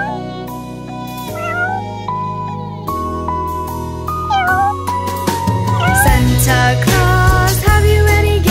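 Meowing cat sounds sit in a bright, loud Christmas nursery-rhyme song, several short rising and falling cries over steady music.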